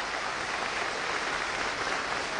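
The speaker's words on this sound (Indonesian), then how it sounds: "boleh tepuk tangan sekali lagi" An audience at an anniversary celebration for an education institute claps in steady, dense applause, even in loudness throughout the short stretch, with no speech heard.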